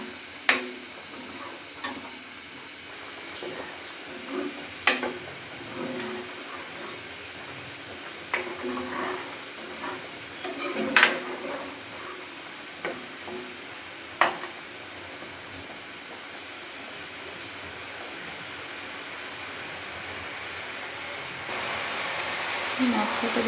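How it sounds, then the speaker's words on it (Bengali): Spice paste with turmeric and chili powder frying in a pan for a fish curry, a low sizzle punctuated by scattered sharp spoon taps and scrapes, close and steady, brightening to stronger hiss near the end. "মশলাটা ভালো করে কষিয়ে নিচ্ছি।"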